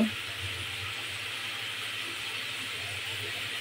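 Tilapia pieces and fish heads go into a pan of frying spice paste, producing a steady, even hiss and sizzle of hot oil that holds at a moderate level throughout, close by and without talk.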